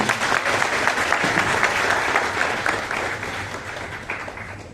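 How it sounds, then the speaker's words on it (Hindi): Dense, steady applause from a crowd at a Sarna prayer assembly gathering, welcoming a district leader to the stage; it stays full and close for several seconds, then thins slightly toward the end. "जोरदार ताली दीजिए"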